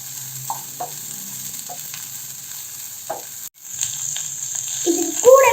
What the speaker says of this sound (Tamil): இதில் வந்து வெங்காயம் அப்படியே ஆட் பண்ணிக்கலாம். இதை வந்து நல்லா வதக்கிக்கலாம்.